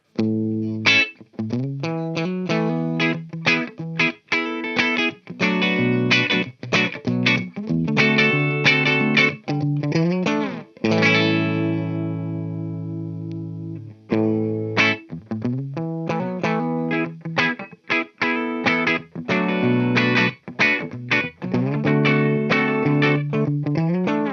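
A distorted electric guitar on the bridge pickup, through a NUX B-8 wireless system, plays bright, biting riffs and sustained chords with a sharp, trebly edge, alone and continuous throughout.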